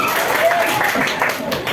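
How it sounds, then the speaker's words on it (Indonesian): A short burst of dense clapping from a class of children, steady and fairly loud, with voices mixed in underneath. "Oke, tepuk tangan dulu."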